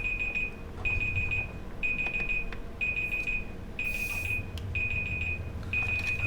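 An alarm signals that a load of washing is done, giving bursts of high, steady beeping in a regular on-off rhythm. It plays close and clear over a low background hum.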